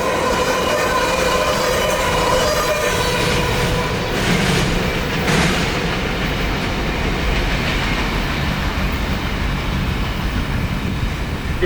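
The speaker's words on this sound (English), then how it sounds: "452 is a pretty good sized train today" A long freight train, number 452, hauls phosphate hoppers and sulfur tanks past at close range, with a steady, loud rumble of wheels and cars rolling by and no break in the noise.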